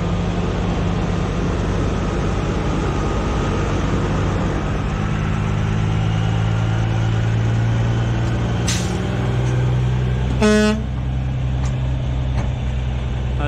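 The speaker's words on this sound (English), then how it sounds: "That's the goodbye honk." A truck horn blasts once, loud and close, over a steady rumbling engine and traffic noise as a double-wide mobile home is hauled.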